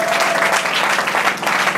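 Church congregation applauding and acclaiming Jesus, steady dense clapping that fills the space throughout, loud and close, with a faint held tone running underneath.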